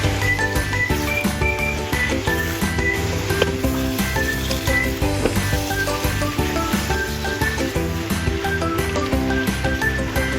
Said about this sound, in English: Add the yellow noodles and stir-fry until the sauce is absorbed.